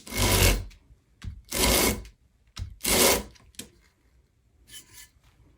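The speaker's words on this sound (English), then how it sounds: "I just hold on to the sandpaper and I draw this across it." A cast resin tumbler bottom is drawn across 80 grit sandpaper on a flat surface, making three long rasping strokes with short scrapes between them, close and distinct, ending in a fainter brush.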